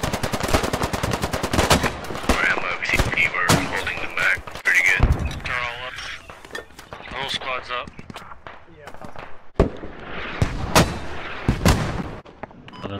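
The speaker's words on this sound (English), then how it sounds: "Mortar's gonna have danger close." Heavy mortar and artillery fire in a military video game, with loud booming impacts and machine-gun bursts mixed through a busy battle while players talk.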